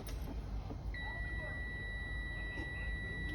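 Truck dashboard warning alarm sounding after the key is turned to the on position in the cab, a steady high-pitched electronic tone holding continuously over a low rumbling background.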